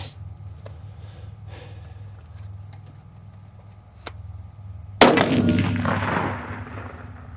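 A single loud, sharp rifle shot from a .243 coyote rifle being sighted in with a new ATN Thor 4 640 thermal scope, cracking outdoors after a quiet stretch and trailing off in a long echoing decay.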